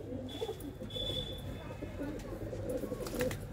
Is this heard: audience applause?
no